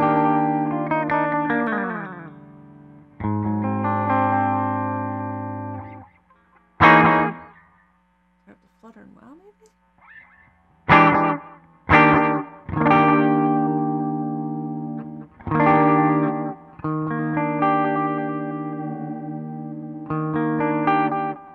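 Distorted electric guitar played through a Line 6 POD Go's Platter delay modelled on the Binson Echorec, with chords and short stabs leaving repeating echo tails and wash between phrases, loud and up close.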